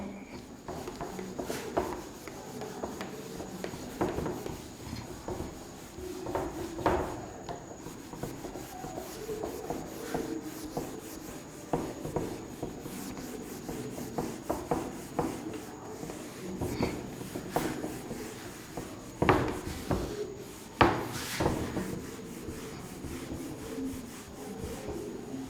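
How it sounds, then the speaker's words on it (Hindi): Steady scratchy rubbing on a board during a physics lesson, a long series of uneven rasping strokes with sharper scrapes near the end, alone without talk. "चलिए रब करते हैं।"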